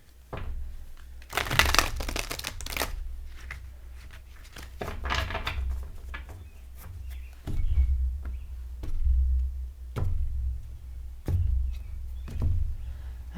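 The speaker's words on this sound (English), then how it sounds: "one more shuffle and then I'm cutting" A tarot card deck is shuffled by hand at close range, with a series of soft papery riffles and slaps coming in separate bursts a second or two apart, with no talking.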